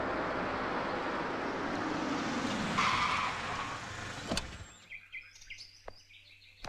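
A car in a Hindi court movie scene skids to a stop with a long tire squeal and rushing noise, then cuts off into quiet with scattered bird chirps and faint clicks.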